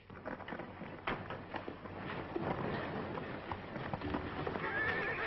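Horse hooves clip-clop steadily in an old Zorro film, with a horse neighing over a busy outdoor background of mid-distance movement.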